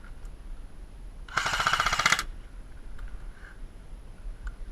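An airsoft gun fires one rapid automatic burst of just under a second during an outdoor game assault on a village. The shots sound moderately close over a quiet background.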